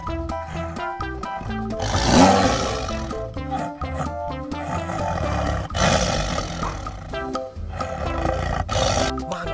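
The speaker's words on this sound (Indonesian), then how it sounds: "Di sini ada harimau." A tiger roars loudly and close, with big harsh rumbling bursts that swell and fade across the clip alongside layered tonal sound.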